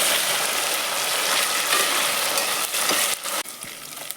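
Goat head masala frying in a hot pan while being stirred, a loud continuous sizzle with scraping stirs, easing and breaking up toward the end.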